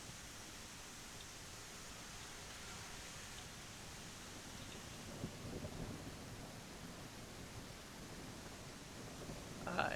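Rain and thunder in the train game Railroads Online, a steady broad wash of rainfall with low rumbling, faint and continuous, a brief louder swell near the end.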